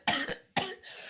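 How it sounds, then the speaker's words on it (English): A person coughs twice in quick succession, loud and close, over a faint room background during an online interview podcast. "if you're gonna cough, mute yourself"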